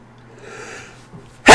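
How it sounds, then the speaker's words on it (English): A single loud, sharp sneeze bursts out at the end after a soft breathy inhale, close to the listener. "That was a good sneeze."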